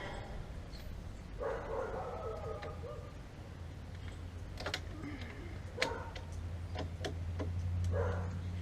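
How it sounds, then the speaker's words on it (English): A dog barks a few times in the background, distant and faint, while brakes are being replaced on a 2006 Dodge Caravan, with occasional tool clicks and a low hum nearby. "There goes the dog barking at nothing."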